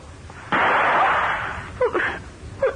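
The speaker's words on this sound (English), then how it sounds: "That sounded like a gunshot." A single loud gunshot-like burst cracks indoors behind a closed door and trails off into a rough decaying rumble, followed by a couple of short thuds.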